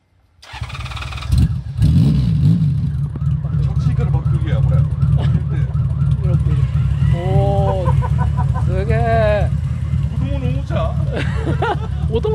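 A Honda Valkyrie motorcycle engine starts with a sudden roar, then settles into a loud, steady rumble while reverse gear is engaged. Several people talk close by over the engine.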